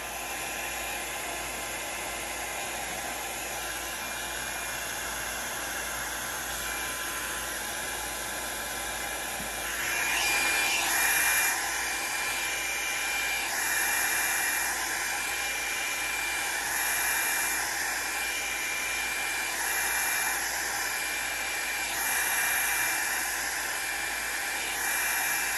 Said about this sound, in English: Going back and forth with your blower all the way around it to dry it.